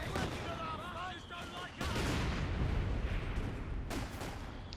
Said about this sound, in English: The mortars. Sappers wiped there by the German mortars.